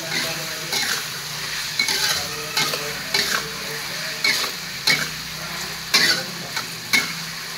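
Broccoli and cauliflower stir-fried in a pan, a steady sizzle broken by repeated scraping and clinking strokes of the spatula against the pan at an uneven rhythm, close up with no talk.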